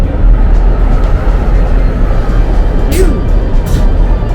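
Steady low rumble of a moving French train carriage between Avignon and Marseille, loud and continuous, with a couple of brief high squeaks or clicks near the end.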